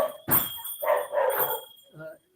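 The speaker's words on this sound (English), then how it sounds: "there's a barking dog here." A dog barks repeatedly nearby, several loud, ragged barks in quick succession, mixed with a person talking over them during an online webinar.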